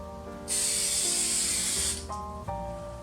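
Aerosol spray paint hisses in one steady burst of about a second and a half onto windshield wiper arms, close and loud, with quieter tonal hum from the surroundings before and after.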